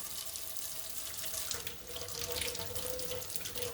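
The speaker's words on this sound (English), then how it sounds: "going to wash off this okra" Fresh okra rinsed under a running kitchen tap, a steady close rush of water splashing into the sink with small shifts as the pods are turned in the stream.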